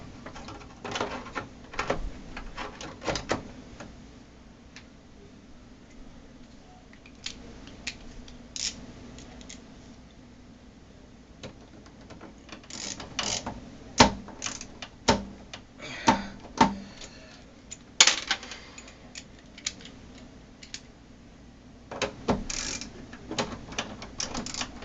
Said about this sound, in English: Put the graphics card back in again.